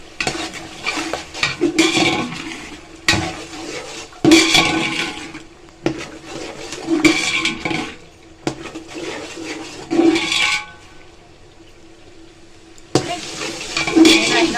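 Whole spices frying in a pot for a rice and pea dish, with peas tipped in and stirred: bursts of scraping, clattering stirring and sizzle come in repeated waves, broken by short quieter gaps.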